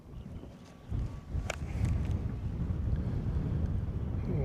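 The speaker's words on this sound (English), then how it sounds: "The wind's trying to get up." Wind blows near rocks on open water as a steady low rumbling roar buffeting the microphone, with a faint brief clank partway through.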